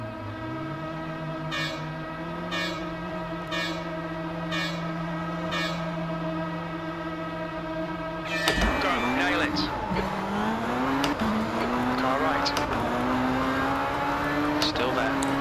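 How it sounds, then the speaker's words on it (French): Tatuus race car engines rev in the game rFactor 2, a steady droning idle with rhythmic pulses, then a sudden surge of rising, overlapping revving and wailing engine pitch that continues to the end. "Il y en a, ils ont envie de fumer leur moteur avant la course."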